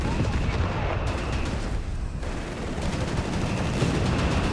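A flak gun and a Panzer III fire in a Company of Heroes 3 battle, a loud, dense and unbroken barrage of gunfire and blasts.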